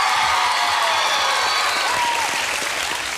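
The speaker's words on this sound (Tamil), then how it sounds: "எனக்காக அவங்களுக்கு ஒரு பெரிய கைத்தட்டலை கொடுங்களேன்." Loud, dense applause from a studio audience at a Tamil junior dance competition show, continuous for the whole stretch with a faint crowd murmur underneath.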